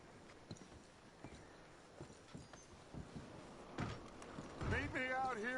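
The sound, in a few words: horses with clip-clop hooves, from video game Red Dead Redemption 2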